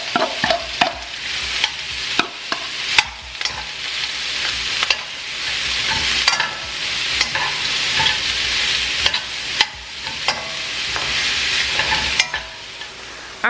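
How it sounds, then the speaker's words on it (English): Onions fry in oil in a sticking pan, a steady loud sizzle with repeated scraping stirs and clinks throughout. "while my onions are cooking"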